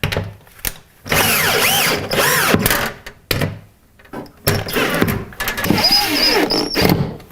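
A power drill drives a big bolt into a wall stud while a microwave is installed, with loud whirring bursts that strain and change pitch, separated by short pauses and clicks, and some talk mixed in.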